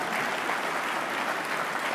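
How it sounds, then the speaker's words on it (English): Indoor conference audience applauds keynote speaker Kris Faafoi at a stormwater conference, a dense, even wash of many hands clapping at once throughout. "Round of applause for Kris"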